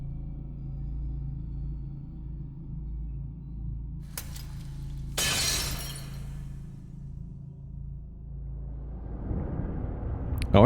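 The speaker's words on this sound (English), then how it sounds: "took a light bulb and just like smashed it on the ground for that sound effect" Glass shatters in a video game, with a sudden bright crash that tails off into rumbling, preceded by a short sharp crack and followed by a rising rumble.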